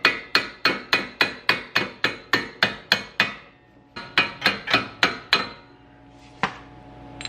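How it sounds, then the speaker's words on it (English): Sharp, evenly spaced metal hammer blows strike a wheel stud on a BMW E34 540 front suspension, ringing close by, a long rapid series, a short pause, another run, then one last strike. "a couple strikes with the hammer should pull this right out"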